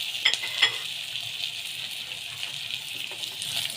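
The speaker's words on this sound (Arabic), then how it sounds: "هنزل بالثوم والفلفل، يعني كام فص كده اهو. اديني تشويحه حلوه بقى كده" Garlic cloves and peppers sautéing in a pan give a steady bright sizzle with a few sharp crackles early on, close and continuous, no voices.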